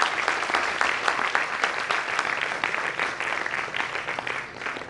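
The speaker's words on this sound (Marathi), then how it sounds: "जोरदार टाळ्या।" An audience at a Marathi cultural program breaks into loud, sustained applause, dense clapping filling the whole stretch before gradually easing.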